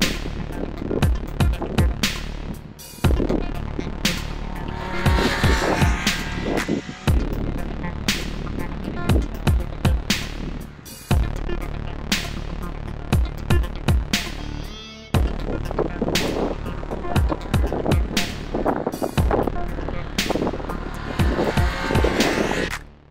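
A Triumph Speed Triple 1200 RR motorcycle lapping a race track, its engine roaring loud and close, revving hard through repeated gear changes with rising and falling pitch, interrupted by brief cuts.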